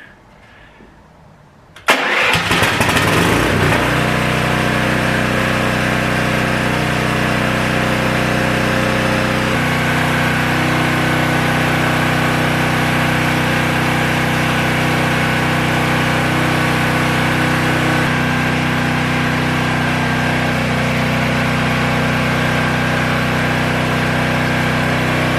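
A Vulcan Outlaw 195 welder generator's small gas engine is choked and pulled to start after a brief quiet lead-in, catching abruptly, then settling into a steady, loud, continuous idle that runs close by with no talking.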